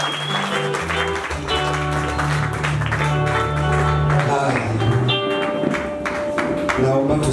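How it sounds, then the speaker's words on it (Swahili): A church congregation at a healing ministry service claps continuously, a busy patter running beneath loud keyboard and bass music that fills the background throughout. "makofi."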